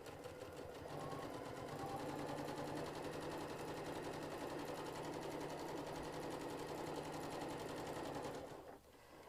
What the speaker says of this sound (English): That's just my sewing machine's default